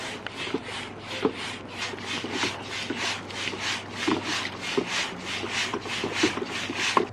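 Hand pump inflating a dinghy on a boat, a steady repeated rhythmic rasping whoosh of strokes roughly every half second, close and fairly loud, with no talk.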